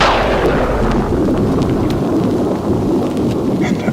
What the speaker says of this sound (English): The storm came up and the thunder crashed.